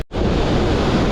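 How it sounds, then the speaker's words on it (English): Ocean swell and surf rolling in on the south coast, a steady, loud roar of breaking waves with a wind-buffeted hiss that starts abruptly after a brief silent gap. "Swell has picked up a hell of a lot again."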